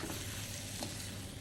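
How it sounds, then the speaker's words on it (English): Steady, dense sizzling of vegetables being stir-fried in a hot pan, a continuous crackle with no voices. "Toss that in. Give it a good quick stir fry here."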